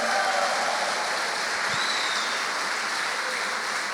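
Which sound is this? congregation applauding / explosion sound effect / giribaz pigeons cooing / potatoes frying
congregation applauding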